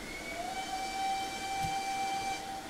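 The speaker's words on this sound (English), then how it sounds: "quick whistle to let people know that we're leaving" A steam locomotive whistle, the City of Churro in the Train Simulator 2018 game, sounds one long, steady tonal blast over a low rumbling background, fairly loud and alone.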